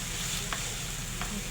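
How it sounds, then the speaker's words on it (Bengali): Ginger, garlic and cumin paste sautéing in a pan, an even sizzle with two soft stirring scrapes, brief and quiet. "আদা রসুন জিরা বাটা এটা দিয়ে দিলাম 2 টেবিল চামচ, দিয়ে ভালোভাবে কষিয়ে নেব"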